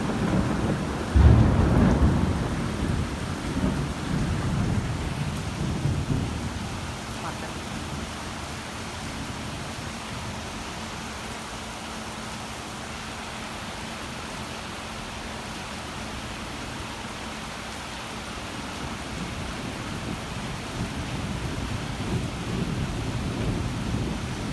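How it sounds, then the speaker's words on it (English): Heavy rain pours in a thunderstorm, a dense steady roar with a deep thunder rumble swelling early on, then a long even downpour that grows slightly louder toward the end. "It's raining heavily."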